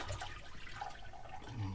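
A pump draws water out of a boat toilet with a gurgling, rushing flow, moderately loud and continuous over a low mechanical rumble.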